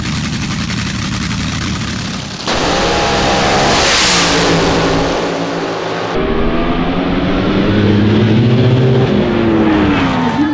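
Top fuel dragsters in a drag race final, a loud continuous engine roar that builds as they accelerate down the strip and rises in pitch, steady and close throughout.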